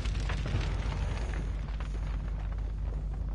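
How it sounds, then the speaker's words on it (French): An explosion in the video game H1Z1, a dense roaring rumble heavy in the low end that stays loud and sustained throughout, with crackling debris above it. "Finir en beauté sur une petite explosion là."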